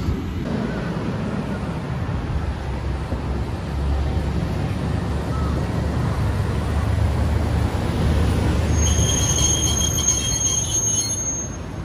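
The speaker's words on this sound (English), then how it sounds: "Kumamoto, they have electric tram cars." An electric tram in Kumamoto, Japan rolls past with a continuous low rumble of wheels on rails, and a high metallic squeal rises near the end.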